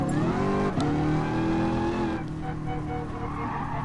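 A Lamborghini Aventador in the racing game GT Sport skids with a sustained, loud tire squeal over a high revving engine whine, the pitch sliding as the car slides.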